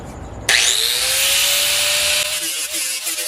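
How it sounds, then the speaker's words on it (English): A power tool cuts notches into steel pieces for a DIY platform roof rack on a Blazer, one loud continuous whining cut with a rising pitch that lasts about two seconds, then eases into a lower grind. "I'm just going to go ahead and cut those out, notch them"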